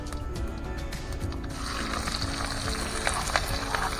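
Steady, close sizzling of onions and green chillies frying in hot oil, a dense crackle that thickens partway through and continues without pause.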